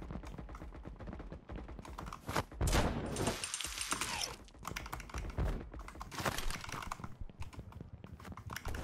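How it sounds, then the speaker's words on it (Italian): Rapid bursts of Fortnite gunfire crackle in quick volleys, mixed with clattering keyboard clicks and thumps, loud and close throughout. "Sento spari qua sotto?"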